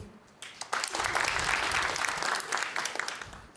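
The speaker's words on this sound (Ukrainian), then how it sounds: "А поаплодуйте ті, хто кожного понеділка сідає на дієту" Audience applause at a stand-up comedy show swells into a dense, close burst of clapping lasting a few seconds, then tapers off.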